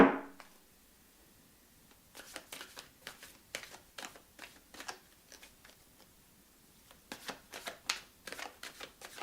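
Oracle cards being shuffled by hand, close and fairly quiet, in short bursts of crisp riffling snaps separated by brief pauses.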